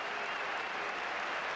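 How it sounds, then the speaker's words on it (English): A cricket crowd applauds a Gundappa Viswanath century against Australia with steady, dense clapping that holds at an even level from start to finish. "A generous round of applause"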